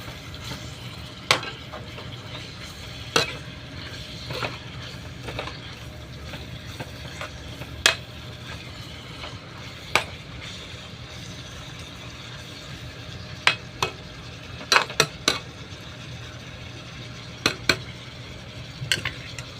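Okra frying in a pan with green chili and tomato, stirred with a utensil: a steady low sizzle runs underneath, broken by scattered sharp scrapes and clinks at an irregular pace, close and moderately loud.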